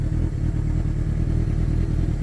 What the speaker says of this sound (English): So this thing's running a 2006 Suzuki GSXR 1000.